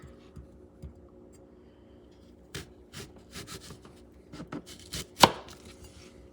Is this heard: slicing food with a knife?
yes